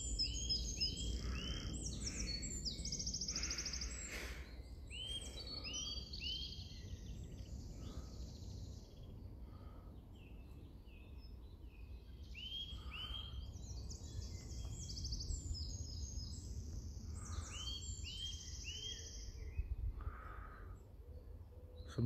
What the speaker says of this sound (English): Birds are just picking up here